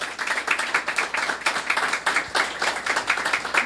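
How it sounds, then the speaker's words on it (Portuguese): A seminar audience on samba and carnival breaks into applause, a dense run of clapping that swells and dips in rhythmic waves for several seconds, fairly close and with no voices over it. "Uma salva de palmas."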